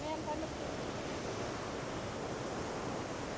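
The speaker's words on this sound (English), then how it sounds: "Waterfall." A waterfall near Briksdal Glacier in Norway rushes as a loud, continuous broadband roar close to the microphone, with possible faint wind noise.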